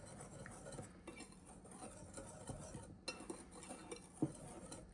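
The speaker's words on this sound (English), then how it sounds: "Okay, and then I'm just going to whisk this together" A whisk mixes cinnamon, nutmeg, salt and baking powder in a bowl, making faint, continuous light scraping and clinking with occasional sharper taps, no voices.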